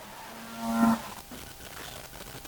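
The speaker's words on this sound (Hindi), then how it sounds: "होपफुली भैंसों की आवाज भी आ रही है।" Buffaloes mooing in the distance, a single drawn-out low moo rising and fading within a second over a quiet background.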